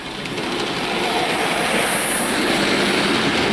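A Dapol LSWR B4 model locomotive pulling seven wagons and a brake van along a layout, a steady, fairly loud whirring hum of the small motor with a continuous rolling rush and no talk.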